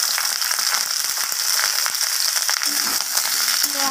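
Potatoes and papaya are stirred in hot oil, giving a steady close sizzle and crackle with scraping and clicking from the stirring utensil throughout.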